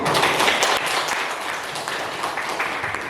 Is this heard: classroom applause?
yes